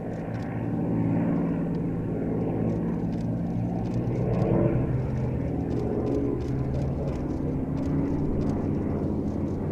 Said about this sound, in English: In the lead now we have the P-38 pulling up into a 3-ship loop with that P-51 on his left wing and the Corsair on the right.